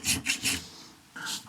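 Hand file rasping along the lugs of a bowie knife frame handle set in a file guide: three quick, close strokes, a pause, then a fourth stroke.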